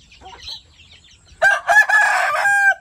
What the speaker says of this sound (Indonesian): udah paling belaga ini ayam jago ini